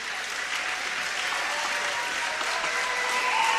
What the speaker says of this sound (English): As Abernathy goes to the bench, Wilson goes to the bench, and the crowd recognizes them